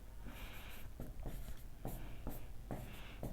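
Chalk or marker writing an equation on a board, quiet rhythmic strokes in short bursts with brief pauses, faint and close, with no talk over them.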